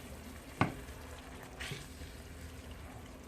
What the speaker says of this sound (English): I'm going to turn this back, my hamburger back on to a simmer and just let this cook down just a little bit.